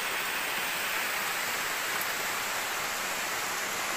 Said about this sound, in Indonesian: Taunya hujan lagi,